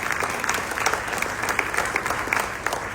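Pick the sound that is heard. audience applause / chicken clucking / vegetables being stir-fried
audience applause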